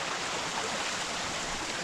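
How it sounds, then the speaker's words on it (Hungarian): Mountain stream rushing close by near the entrance of Zichy Cave in the Királyerdő Mountains, a loud, steady broadband water roar with no voices. "itt zúg a patak mellettem"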